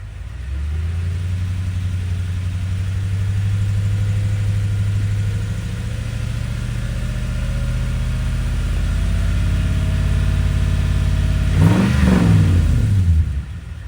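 A car engine, freshly refilled with new oil, hums at a low steady rev that rises and falls gently, then revs up sharply toward the end, close and continuous with no talking.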